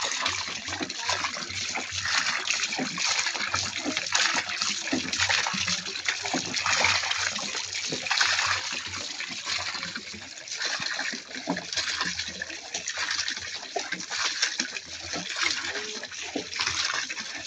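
Irrigation water pours and rushes across a farm field in the countryside, a steady, dense, broadband flow that continues unbroken throughout and sounds close and fairly loud.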